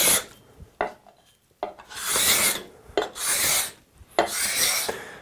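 A steel cabinet scraper is pressed down and pushed across a wooden surface, shaving off curls in about four loud, rasping strokes with short pauses between them.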